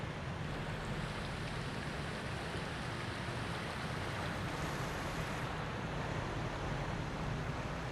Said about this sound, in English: I'm liking this water sound.